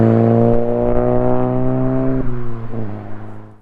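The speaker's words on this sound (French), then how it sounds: "On retrouve une double sortie en inox de 100 mm avec un intermédiaire et sans silencieux" A Golf 7 GTI Performance with a 100 mm stainless dual exhaust, mid-pipe and no silencer revs loudly and close. A sustained rich tone climbs, then drops back in stepped falls as the revs settle.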